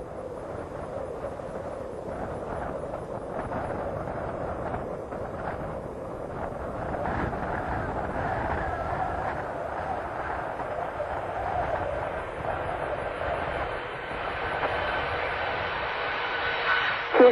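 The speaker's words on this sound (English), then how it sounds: "Discovery is rolling out on runway 33 at the Kennedy Space Center" Space Shuttle Discovery rolling out on runway 33 at Kennedy Space Center after landing, a steady distant roar of rushing air and rolling noise with wind buffeting the microphone, sustained throughout without speech.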